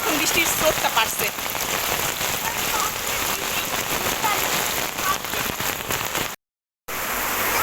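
Heavy rain pours down during a flood in Uttara, Dhaka, with dense, steady hiss of drops on surfaces and running rainwater, loud and continuous throughout, cut by a brief gap near the end.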